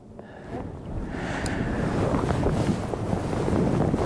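Strong wind buffets the microphone on a fishing boat out on open water during bass fishing, a continuous rough rumbling roar that builds slightly louder over a few seconds with no talk.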